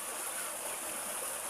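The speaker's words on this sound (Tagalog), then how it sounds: "marinig nyo guys yung ingay ng agos ng tubig" Muddy stream water at Sitio Patag, Barangay Payatas, rushes with a steady, broad hiss, close and continuous, with no voices.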